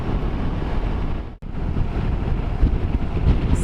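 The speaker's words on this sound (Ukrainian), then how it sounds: "вітер, вітер дуже добре продуває ці хмари" Strong wind roars steadily across the microphone, a dense continuous rush with a brief dropout partway through, no voices.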